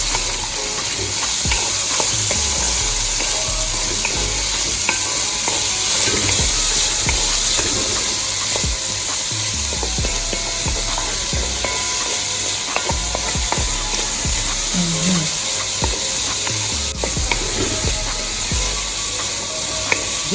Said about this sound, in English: I'm going to saute all of this.